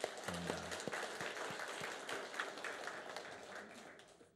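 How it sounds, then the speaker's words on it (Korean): A Sunday worship congregation claps in a faint, distant wash of scattered applause that thins out toward the end, with a few sharper taps near the start. "다시 한번 우리 감사와 경애의 박수 하겠습니다"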